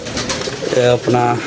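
Pigeons in a keeper's loft coo in low, throaty bursts toward the end of the clip, with a voice speaking briefly over them at the start.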